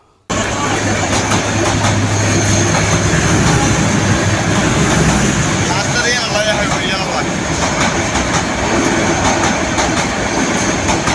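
An afternoon train from Cox's Bazar to Chattogram passes close by in a continuous loud rumble, wheels clattering rhythmically over the rails with a brief metallic squeal midway.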